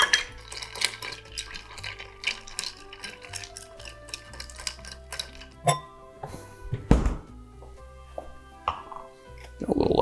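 Cognac cocktail stirred over cracked ice in a glass, giving light, irregular clinks and taps near the microphone, with a few sharper knocks toward the end.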